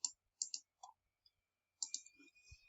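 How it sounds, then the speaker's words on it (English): Short, faint mouse clicks on a computer, a few crisp taps spaced apart and then a quick cluster, heard alone in a quiet room. "We just simply do a right click on that"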